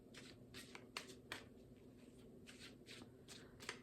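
Playing cards from a tarot deck are riffled and shuffled close up, a series of quick soft ruffling bursts in uneven rhythm, quiet and alone.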